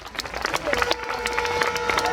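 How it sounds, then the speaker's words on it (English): A Jamaican event crowd applauds young people with brisk clapping and some crowd noise, while a faint tone runs underneath. "A round of applause for the young people."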